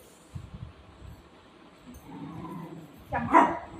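A golden retriever playing at home gives a few short barks and yips, soft early on and louder near the end, with household noise and no talk over it.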